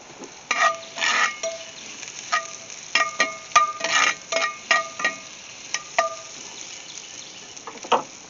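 Food cooks in a cast iron pan on a Big Green Egg grill, giving a soft background sizzle broken by repeated sharp clinks and scraping of a utensil against the pan.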